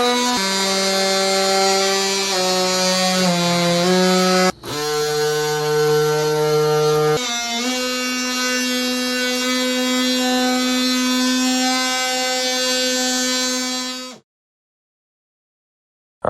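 Power cutting tool slicing an airbox opening in a plastic shroud during a Honker C5 install, a loud, steady buzzing whine that shifts pitch, stops briefly partway, then runs on before cutting off into silence.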